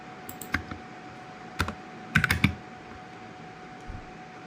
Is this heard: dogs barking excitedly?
no